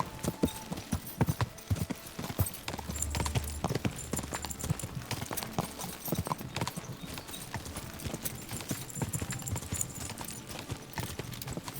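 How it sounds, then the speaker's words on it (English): Horse hooves gallop continuously in the medieval game Kingdom Come: Deliverance II, a steady rapid clip-clop rhythm close by with faint background sounds throughout. "You're not the fastest horse."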